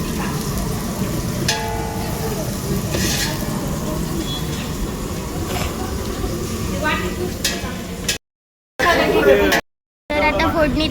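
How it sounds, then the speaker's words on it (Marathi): Onions frying in a pan for a tempering during Ganapati Visarjan preparations, a steady sizzle running throughout beneath nearby chatter and voices, with a couple of brief dropouts near the end. "ऑनियन फ्राय करतायत"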